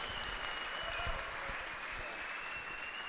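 Audience applause at a Bitcoin Amsterdam 2025 conference fireside chat, a steady dense wash of clapping from a large crowd that holds at an even level throughout.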